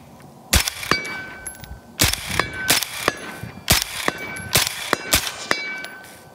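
A rifle firing a quick string of shots, each one followed by the bright ringing clang of an 8-inch steel target hit at 100 yards, roughly eight evenly spaced reports with metallic rings after them, no talking.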